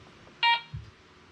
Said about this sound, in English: Plenty of beeps, always the log stops or the cant hook or the sawmill bed.